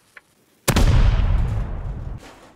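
A single loud explosion in the video game Rust booms suddenly, its deep rumble rolling on for over a second before cutting off.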